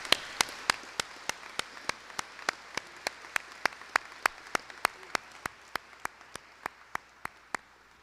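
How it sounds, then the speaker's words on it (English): Sparse, evenly spaced hand claps ring out one after another at an awards and recognition ceremony, sounding like a thin round of applause from a small group, fairly quiet and without any talk over it. "I'd like you to all give a big round of applause to Lisa, Gail, Cheyenne, Vanessa, and Emily for preparing this."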